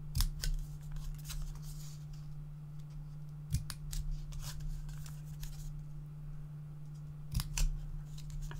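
Scissors snipping through paper card while making a theatre-style fold card: a steady series of short, crisp cuts close by, with pauses between clusters, over a constant low hum and no talk.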